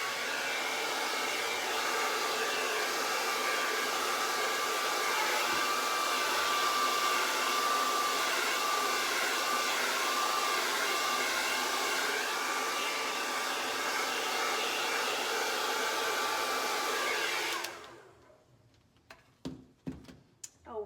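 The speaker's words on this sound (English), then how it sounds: "My handy dandy blow dryer is on the cool setting" A handheld blow dryer on its cool setting roars in a steady, close, loud whoosh for most of the stretch, then cuts off, leaving a few faint clicks and knocks.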